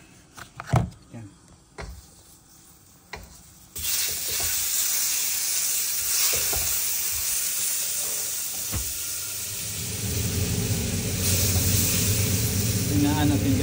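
Chicken frying in a pan with butter: quiet clattering and a few knocks give way to a sudden loud, steady sizzle that swells louder toward the end, close by, with talking faintly underneath.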